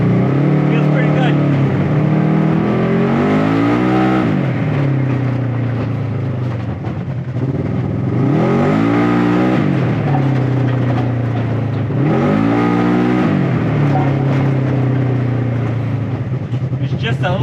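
An off-road vehicle engine fitted with a Mother Clutcher primary clutch revs up in three repeated surges, each rising then dropping, loud and close, with a constant drone between pulls.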